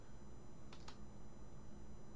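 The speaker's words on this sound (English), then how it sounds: "So go ahead and type a strong password here." A few faint, quick keystrokes on a computer keyboard as a password is typed during an Arch Linux installation, clustered in one short burst over a quiet background hum.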